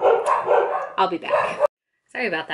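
Pet dogs bark and yip indoors at a cat outside the window, several sharp barks mixed with a person's speech, then a brief silence and more talking.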